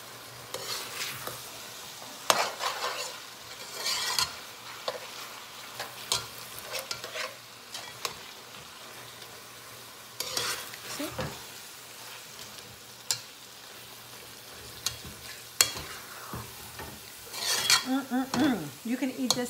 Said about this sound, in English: I like to break down the tomato paste a little. Just to help mix it up a little quicker.